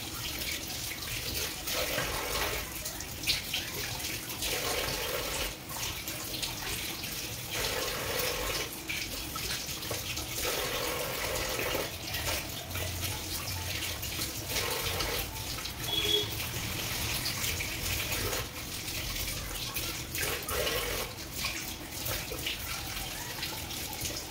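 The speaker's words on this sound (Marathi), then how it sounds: "आता आपण यांना छान धुवून घेऊया।" Freshly harvested cucumbers from a kitchen garden are washed under running tap water. The water flows as a steady, fairly quiet rush for the whole stretch, with intermittent splashes as the cucumbers are handled.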